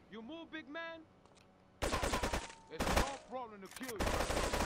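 AK rifle fire from the GTA Trilogy video game cracks out in loud rapid bursts, several volleys separated by short pauses, with a voice talking between and around the shots.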